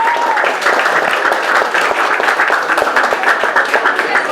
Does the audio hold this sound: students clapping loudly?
yes